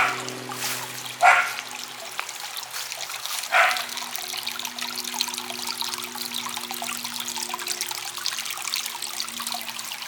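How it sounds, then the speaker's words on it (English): A neighbor's dog barks in the distance, two short single barks a few seconds apart, faint against a steady trickle of water from an outdoor goldfish pond. "talking gets the neighbor dog barking"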